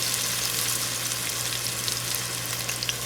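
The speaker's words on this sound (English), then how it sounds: "frying them until all the chicken is browned" Loud, steady sizzling and crackling of chicken pieces browning in hot oil in a pan, close up and continuous, with a faint low hum underneath.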